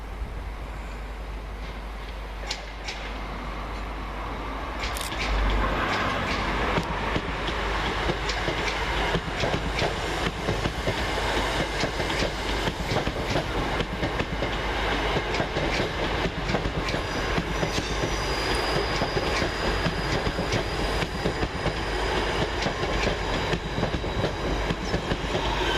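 A pair of West Midlands Railway Class 323 electric multiple units pass through Barnt Green station, a low rumble that swells after a few seconds into loud, sustained rolling wheel noise with rhythmic clickety-clack over the rail joints, no voices.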